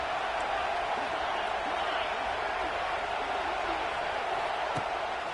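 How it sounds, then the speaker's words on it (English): Stadium crowd at a football game roaring steadily as the defense lines up on third down, a dense, continuous wash of cheering that holds loud and even throughout, with a few faint whoops on top. "Decibels rising as the crowd gets behind this defense on 3rd down."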